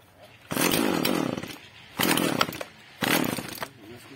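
Husqvarna 136 chainsaw engine firing up and running in three loud revving bursts, each about a second long with short idle gaps between, close by and outdoors.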